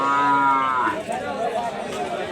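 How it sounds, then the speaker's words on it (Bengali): A cow gives a single drawn-out moo nearby, followed by a murmur of people chattering in the background at a cattle market. "এই যে দেখেন একটা গরু কেনা হয়েছে"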